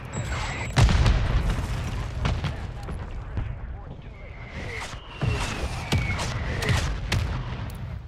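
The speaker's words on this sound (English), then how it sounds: "I was trying not to get killed by my own precision airstrike" Precision airstrike explosions in the video game Call of Duty Warzone, several heavy booms landing amid scattered gunfire, with players talking over the blasts.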